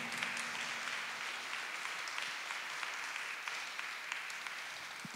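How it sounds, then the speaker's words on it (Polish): An audience applauds a young girl after her performance of a Polish Christmas carol at a carol and pastoral song concert. The clapping is steady and dense, moderately loud, and continues for the whole stretch without speech. "Raz jeszcze wielkie brawa, Małgosia Dzikołowska"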